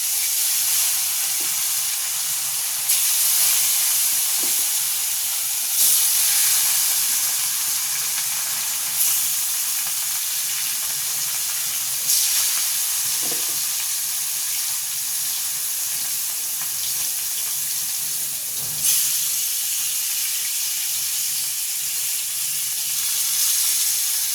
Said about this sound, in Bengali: মাছগুলো এক পাশ ভালোভাবে ভাজা হওয়া পর্যন্ত অপেক্ষা করব